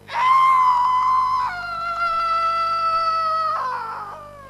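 People screaming during a prayer service, a long, loud, high wavering scream held for several seconds, shifting pitch partway through and trailing off at the end.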